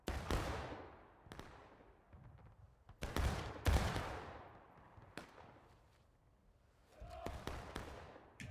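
Black-powder musket fire in War of Rights, a Civil War battle game: scattered loud cracks at uneven intervals, some close and some farther off, each with a rolling echo, plus a few brief tight clusters of shots.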